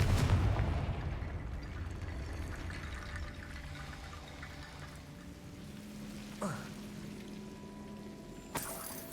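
A Confringo fire spell explodes in a video game, a rumbling blast right at the start that fades into quiet game ambience with a couple of faint later thuds.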